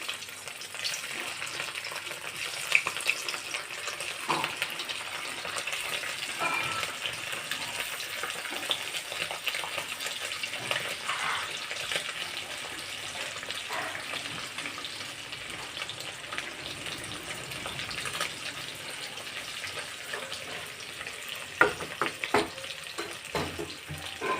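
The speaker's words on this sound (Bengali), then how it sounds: "তেলটা আমার গরম হয়ে গেছে, আমি একটু ডিমের পিসগুলো ভেজে নিচ্ছি" Boiled egg pieces frying in hot oil for an egg masala curry, a soft steady sizzle running throughout at low level, with occasional light taps and clicks of a spatula and no voices.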